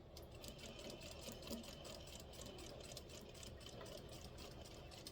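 Sewing machine running steadily at medium speed, stitching a lapel collar seam with a 1/2 inch seam allowance at stitch length 2.5; a close, even mechanical whir without talk.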